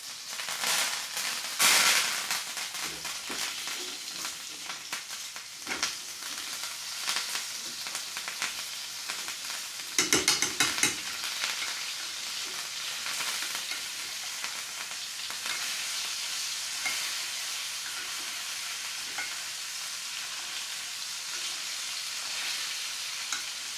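A NY strip steak basted with butter and thyme sizzles steadily in a Mauviel 1830 stainless steel pan, with louder spitting crackles flaring near the start and again midway. No one talks.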